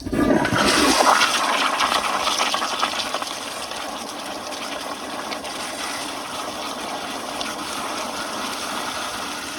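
A 2015 Kohler Highcrest toilet flushes with a strong close rush of water at the start, settling into a steady refilling hiss.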